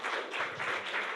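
An audience claps at a Carnatic music class event, a brief dense patter of many hands applauding steadily with no break.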